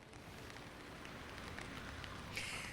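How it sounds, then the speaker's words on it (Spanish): Light rain falling outdoors on an island, a soft steady patter of drops that stays faint and even throughout, with no voices. "ha entrado, pero de momento de puntillas, porque está dejando muy poquita lluvia"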